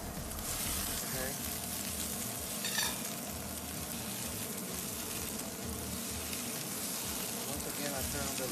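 Beef and flat noodles stir-frying in an automatic rotating wok, a steady sizzling hiss with tumbling, clattering texture throughout, heard close and fairly quiet.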